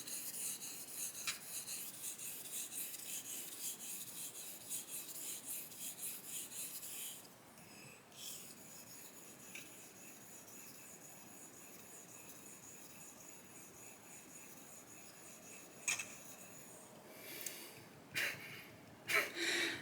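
Straight razor by Krusius Brothers being honed on a Vermont green slate stone: a faint, steady rasping scrape of steel strokes across the stone, with a few sharper clicks and scuffs toward the end.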